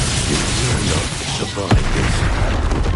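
The Confringo explosion spell in Hogwarts Legacy hits as a single deep boom near the middle of a loud, dense wash of game noise, close and forceful, with some faint vocal sounds underneath.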